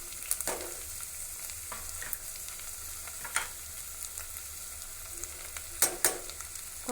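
Vegetables with beans, carrot, green chilli and mint sautéing in a pan, a soft steady sizzle with occasional sharp stirring clinks and scrapes, quiet and close, no voices.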